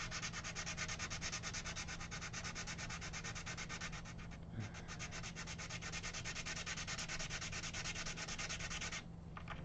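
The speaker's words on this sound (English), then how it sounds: "This is 220 grit sandpaper. And the idea is just to sneak up on it so that I don't take too much off." Steady scratching of 220 grit sandpaper worked back and forth over a Gibson Melody Maker guitar, continuous and close with a brief pause near the middle and another near the end.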